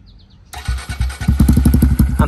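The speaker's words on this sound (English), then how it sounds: "here's the startup" 2024 Honda Grom motorcycle fitted with a Yoshimura exhaust and tuned, starting up close by: a brief starter whir, then the engine catches and settles into a loud, rapid, popping idle with a few blips.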